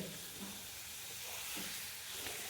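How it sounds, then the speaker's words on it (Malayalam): Tilapia fish fries in a pan with a soft, steady sizzle and hiss, faint and continuous, heard close with no talking. "മീൻ അവിടെ പൊരിഞ്ഞ് റെഡി ആകുന്നുണ്ട്"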